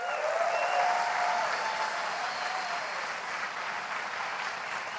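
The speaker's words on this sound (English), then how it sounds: "Let's give them a big round of applause." Audience applause at the Apple WWDC 2017 keynote: a large crowd claps steadily and loudly for about five seconds, fading slightly toward the end.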